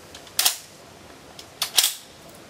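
Rifle shots with a 7.5 mm round at a rainy outdoor shooting range, two or three sharp cracks, the first alone and the last pair in quick succession, set against faint background noise.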